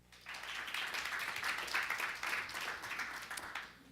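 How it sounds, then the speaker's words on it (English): An audience at a customer success summit session claps together, a dense, even wash of applause that swells quickly, holds for a few seconds and tapers slightly, heard at moderate distance. "Give them a round of applause, please."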